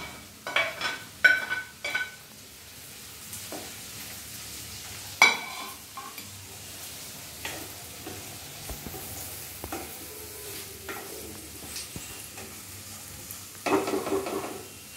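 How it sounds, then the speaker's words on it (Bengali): Carrot and capsicum fry with onion and garlic in a pan, sizzling steadily under repeated scraping stirs and occasional clinks of a spoon, close and alone. "এবার আমি গাজর আর ক্যাপসিকামটা দিয়ে দিলাম"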